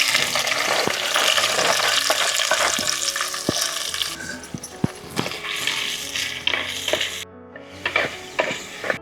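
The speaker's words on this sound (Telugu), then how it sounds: "ఇప్పుడు దోరగా వేపుకొని పక్కన పెట్టుకుందాం." Dried prawns frying in hot oil in a pan for a village-style okra and dry prawn curry, a loud steady sizzle with scraping stirs and clinks of the utensil, the hiss thinning in the later seconds.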